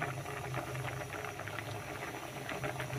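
A pot of mung beans boils at a gentle, steady simmer, soft bubbling and hissing continuing quietly throughout with no talking.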